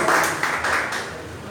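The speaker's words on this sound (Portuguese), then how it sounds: "uma salva de palmas para o nosso mestre" A church congregation at a family service gives a brief burst of applause that quickly fades.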